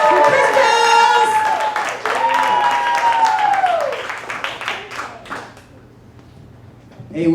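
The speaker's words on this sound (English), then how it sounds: "Put your hands together real loud right now" Audience at a stand-up comedy show claps and cheers loudly for a comedian taking the stage, with whoops and shouting voices over the clapping before it dies down near the end.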